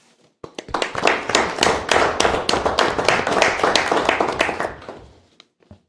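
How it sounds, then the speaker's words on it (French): Applause at a municipal council meeting in Rouyn-Noranda: a short burst of clapping from a modest group, sharp individual claps close by, swelling quickly, holding for a few seconds and then tapering off. "ça mériterait une bonne main d'applaudissements"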